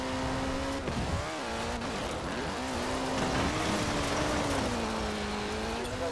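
Car driving fast through traffic in Forza Horizon 4 in winter, its engine loud and close, pitch rising and falling through gear changes, with brief tire noise and no talking.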